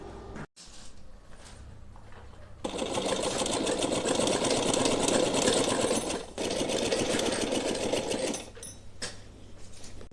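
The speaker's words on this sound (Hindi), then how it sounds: "पूरे इधर साइड भी सिलाई लगा लेंगे इस तरह से" A sewing machine stitches a frill onto multicolour fabric for a small Holi festival outfit, running in a loud steady buzz for several seconds, pausing briefly, then resuming before slowing near the end.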